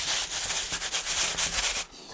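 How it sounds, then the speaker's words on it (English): Nasturtium seeds rubbed and rattled between sheets of sandpaper give a steady, close, gritty scraping that runs continuously, then breaks off near the end. "rattle them between sheets of sandpaper"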